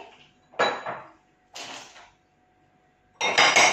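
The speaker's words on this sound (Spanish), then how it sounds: "Vamos a poner los mejillones y las almejas en el cestillo y lo vamos a reservar" Mussels and clams dropped into a Thermomix steaming basket, giving three separate bursts of clattering shells against the basket, close and fairly loud, with short quiet gaps between them.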